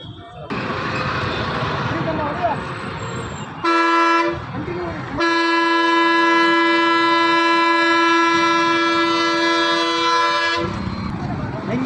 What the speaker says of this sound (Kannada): ಹಾರ್ನು ಸರ್ ಫುಲ್ ಹೊಡೆದ್ರೆ ಸೌಂಡ್ ಜಾಸ್ತಿ ಬರುತ್ತೆ